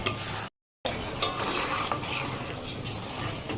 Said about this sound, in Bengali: এবার এটা একটুখানি কষাই।